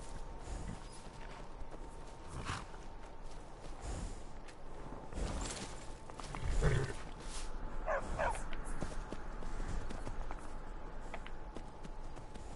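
A dog in a video game barks in a few short, separate bursts alongside hoofbeats and creaking mechanisms, with no talk over it.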